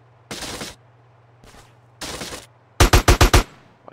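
Gunfire rings out in Grand Theft Auto San Andreas, starting with a few separate loud bursts and ending in a quick run of five sharp, close shots.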